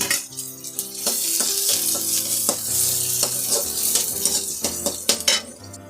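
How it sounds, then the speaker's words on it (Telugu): Garlic, onion and dried red chillies fry in a pan, a steady close sizzle broken by repeated metal scrapes and clinks of stirring, with no talk. "తెల్లగడ్డ, ఎర్రగడ్డ, ఎండుమిరపకాయ, ఇదంతా కొంచెం బాగా ఫ్రై కావాలా."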